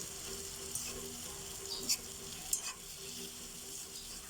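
Corned beef fries and toasts in a pan with a steady, close sizzle, broken by occasional scrapes and stirs of a utensil.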